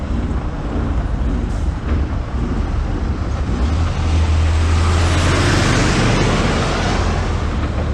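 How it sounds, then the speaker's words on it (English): A heavy truck rumbles past on a German country road between Starnberg and Peiting, a loud, steady roar with deep low drone swelling and fading, heard from beside the road while riding a velomobile. "Oh, gosh, another truck."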